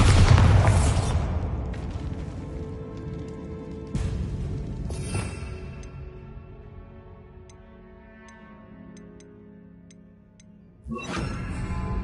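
A Bombarda blasting spell in the video game Hogwarts Legacy, a deep booming explosion at the start that decays into ringing debris and faint ticks, followed by further thuds and a second burst near the end.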